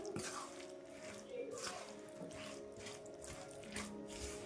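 Pickle being mixed by hand with five spoons of salt and spices, giving quiet, repeated scraping and clicking strokes of a spoon against a container, faint and close, with a light rhythmic pattern.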